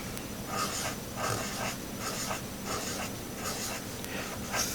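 Someone writes notes by hand, the pen scratching across paper in short, repeated strokes with brief pauses between them, close and moderately loud with no talking.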